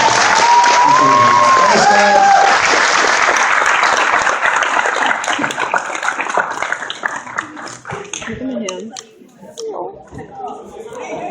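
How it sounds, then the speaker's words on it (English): Applause from a panel audience with cheering and whoops at first, loud and close, then thinning into scattered claps as voices talk and laugh over it. "Round of applause."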